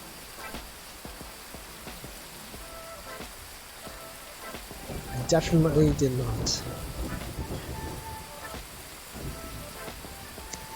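Soft, steady rain patters in a VR fishing video game, faint and continuous beneath a person talking, with a brief louder swell partway through.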